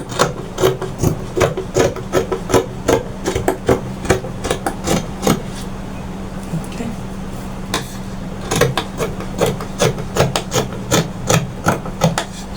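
Scissors cut out fabric bodice pieces for a kaftan with sharp, repeated snipping and rasping strokes in quick rhythmic bursts, close and fairly loud, briefly pausing midway, over a low steady hum.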